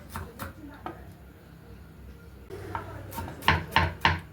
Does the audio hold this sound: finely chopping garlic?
yes